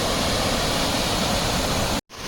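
Eithipothala waterfall in Andhra Pradesh, India, a year-round falls in a maintained garden setting, roars as a steady dense wash of falling water, loud and close, cutting off abruptly near the end.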